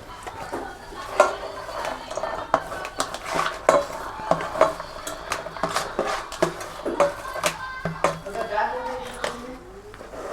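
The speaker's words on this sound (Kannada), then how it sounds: "ಇದೆಲ್ಲ ಈಗ ಎಗ್ಗು ತುರಿದಿರುವಂಥ ಮಿಶ್ರಣಕ್ಕೆ ಒಳಗಡೆ ಹಾಕೋಣ ಬನ್ನಿ." Chopped herbs, chillies, garlic and ginger tipped into a grated egg mixture in a kitchen bowl, with steady clinks and taps of a spoon against the dish as a voice talks over it.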